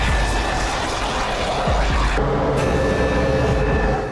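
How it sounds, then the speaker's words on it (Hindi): A fighter jet flies past with a loud, steady roar and rushing engine noise that holds throughout, with no voices. "इसकी वजह है ये लड़ाकू विमान"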